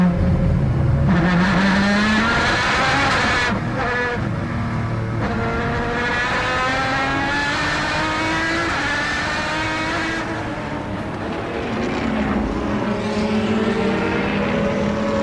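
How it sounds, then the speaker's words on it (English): Onboard a Jet Alliance Aston Martin GT race car at the Nogaro circuit during a 2008 FIA GT round, its engine roaring loud and close with rising and falling revs through gear changes, continuous for the whole stretch. "then it's this man we're riding with, Philip Peter, looking at the Jet Alliance Aston Martin"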